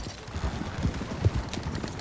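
In the video game Red Dead Redemption 2, a horse trots with a quick, even clip-clop of hooves. The rhythm is close and moderately loud, with no speech over it.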